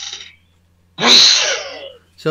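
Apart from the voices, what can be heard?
sneeze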